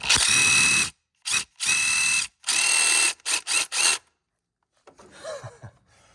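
Power ratchet spinning a stripped nut on top of a VW Golf GTI shift tower, several loud whining bursts separated by silence, followed by faint clinks and handling noises.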